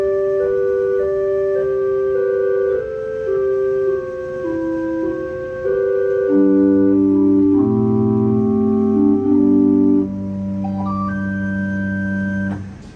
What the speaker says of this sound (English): So the one stop here on the top manual is a chimney flute.